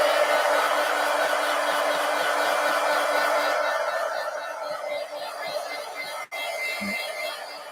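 A hair dryer blows steadily on a paper collage close by, a continuous loud whooshing hum that gradually softens and thins toward the end, with a brief click near the finish.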